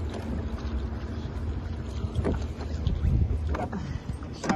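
Small sailboat under sail, tossed in a ferry's wake: steady wind rush and water wash around the hull, loud and close, with no voices.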